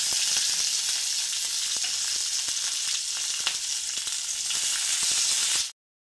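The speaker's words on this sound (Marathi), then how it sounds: "आता त्याच कढईमध्ये परत आपल्याला थोडंसं तेल घालायचं आहे आणि टोमॅटो, मिरची आणि अद्रक आपल्याला थोडंसं परतवून घ्यायचं आहे।" Tomato, green chilli and ginger sizzle in oil in a kadhai with a steady, bright hiss and light stirring ticks throughout, ending abruptly.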